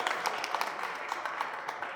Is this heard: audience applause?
yes